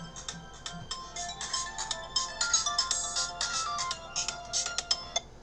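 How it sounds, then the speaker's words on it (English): A phone ringtone plays a bright, repeating electronic melody in quick rhythmic pulses, fairly close and clear, with no voices over it. "And of course, I get a phone call."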